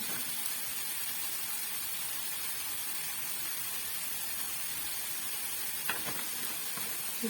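Onion sizzles in a pan as olive oil is added, a steady, even hiss of frying that holds throughout at moderate level, with a couple of faint utensil clicks toward the end.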